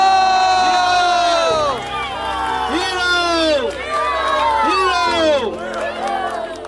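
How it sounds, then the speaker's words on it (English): Spectators at a day of the NERM 2019 event in Aizawl cheer loudly, with high whoops and shouts rising and falling close by; clapping is not distinctly evident beneath the voices. "Cheers, loud clap."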